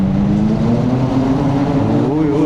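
Motorbike engine with a steady, loud, low rumbling drone and a slight rise in pitch near the end. Wind-like noise fills the background.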